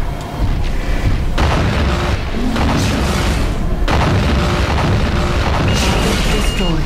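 Heavy autocannon fire from a mech in MechWarrior 4: Mercenaries, loud booming bursts pounding repeatedly through the battle, with a voice talking over it.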